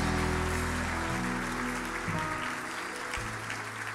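A church congregation applauds together in a loud, dense wash of clapping that fades gradually over a few seconds, with a sustained musical note ringing underneath.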